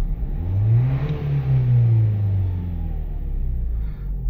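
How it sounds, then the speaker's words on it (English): A Nissan Qashqai with a boost fault revs up, its engine rising to a loud, sustained rumbling drone that eases and holds steady near the microphone, with no talking. "Let's see what this does if we give it a rev."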